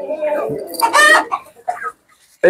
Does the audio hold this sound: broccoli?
no